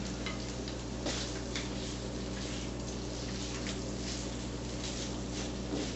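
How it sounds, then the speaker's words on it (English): Slices of smoked sausage cut a quarter inch thick fry in a pan with a steady, dense sizzle, a constant hiss broken by faint pops and nobody talking. "we're going to cook this until it gets a little golden brown on it, just to get that sausage a good taste to it"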